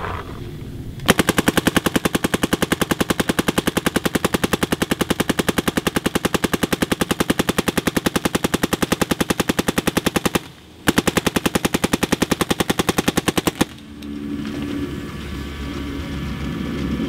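A Cyborg6 paintball marker firing a long, rapid, evenly spaced stream of loud close shots, briefly pausing and resuming before stopping, followed by softer handling noise as paint runs low.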